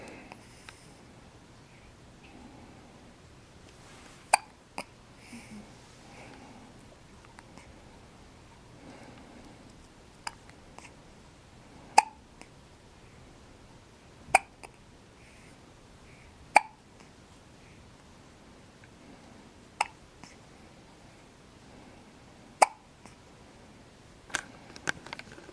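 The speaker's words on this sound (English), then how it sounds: "This little man has the hiccups." A four-day-old newborn baby hiccups with faint, sharp little hics spaced irregularly several seconds apart in a quiet room.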